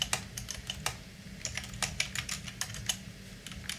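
Rapid, uneven clicking of keys on a computer keyboard during coding, close and fairly quiet, with no talking over it.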